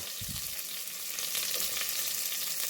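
Steady, dense sizzle of onion and ginger frying in a pan, with a soft stir or scrape near the start and constant crackling throughout, heard alone at close range.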